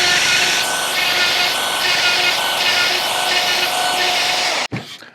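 A router bit cuts into the wood of a Stratocaster guitar body, a loud, continuous high whine with grinding texture that abruptly stops near the end.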